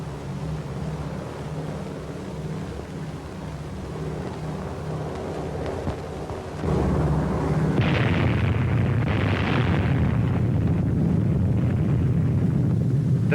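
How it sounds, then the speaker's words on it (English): A test atomic bomb detonation: a steady distant roar that abruptly swells into a deep, sustained rumbling blast, filling the low end and holding loud for several seconds without fading. "The fourth atomic bomb has been successfully detonated."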